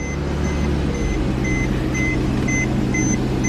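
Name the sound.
car reversing with reverse warning beeps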